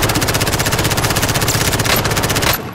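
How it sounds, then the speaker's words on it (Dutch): Rapid, loud, evenly pulsed machine gun fire in the Call of Duty: Modern Warfare video game, a continuous burst for over two seconds that cuts off abruptly. "Schiet hem."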